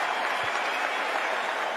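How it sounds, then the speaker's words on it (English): Cricket crowd at Eden Park applauding a batsman's innings as the Blackcaps play Australia, a steady, dense wash of clapping from a large distant crowd that holds evenly throughout with no one talking. "Good response from the crowd."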